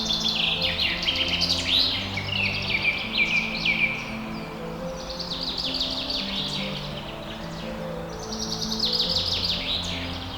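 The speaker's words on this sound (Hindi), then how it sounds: "पक्षियों की आवाज एक स्वर में हमारा स्वागत करती है" Many birds chirp and sing in a dense overlapping chorus at dawn in Keoladev bird sanctuary, high twittering calls rising in waves over a steady low background hum, with no talking.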